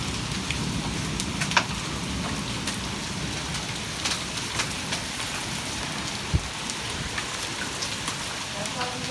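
Penny-size hail and heavy rain pelt down in a severe storm with 40 mph winds, a dense steady roar of impacts with scattered sharper hits throughout, up close and without talk.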